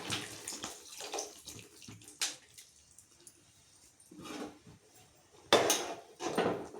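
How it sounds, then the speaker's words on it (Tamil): Tamarind water poured into oil-fried eggplant kara kuzhambu, splashing and gurgling close by in several short bursts with metallic pot clinks between them, and no talking. "இப்போ நம்ம புளி கரைச்சி இதில் ஊற்றிக்கலாம்."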